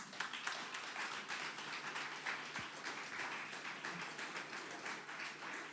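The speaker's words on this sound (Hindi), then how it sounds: "इसके लिए ताली बजनी चाहिए" Audience clapping at a church sermon, a sustained, fairly faint patter of many hands heard from a distance with no speech over it.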